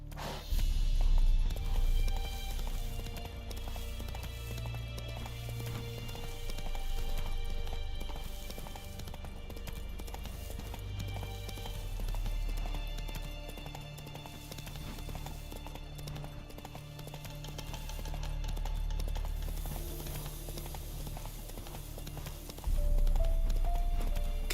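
Horse hooves clip-clop steadily in the video game The Witcher 3: Wild Hunt, a rhythmic trotting that runs the whole time alongside game music and ambience.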